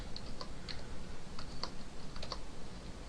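Code is typed on a computer keyboard in a quiet, steady run of light key clicks, close up, with no voices.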